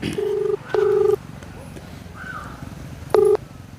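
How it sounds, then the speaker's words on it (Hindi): Three short electronic beeps, each a sustained tone of about half a second with pauses between, sound out clearly like keypad tones on a phone. "फिर से फोन करिए।"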